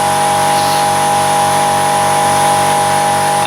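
A Milwaukee M12 FIWF12 cordless impact wrench tightens a nut during tyre work, giving a loud, close, continuous buzzing whine with rapid, even hammering pulses underneath.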